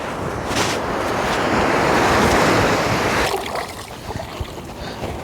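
Sea waves breaking at the shore while squid is washed in seawater, a loud, full rush of surf that swells and then recedes into choppier splashing.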